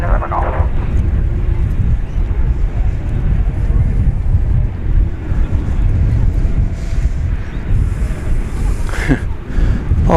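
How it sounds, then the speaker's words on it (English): Strong wind gusts roar steadily across an open airport airfield at DFW, buffeting the microphone with loud, continuous low rumble throughout, a brief louder whoosh near the end. "so much wind"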